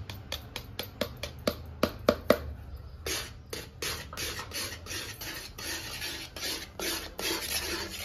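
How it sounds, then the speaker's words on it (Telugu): Gram flour is stirred into sugar syrup in a pan for Mysore pak, making a quick run of sharp scraping strokes that settles into a steadier rhythmic rasping of a spoon against the pan, close and clear, without talk. "దీంట్లో శనగపిండి వేసుకొని సిమ్లో ఉంచేసే ప్రాసెస్ అంతా చేయాలి. ఇప్పుడు దీంట్లో యాడ్ చేసుకుందాం. ఉండలు కట్టకుండా బాగా కలుపుకోవాలి."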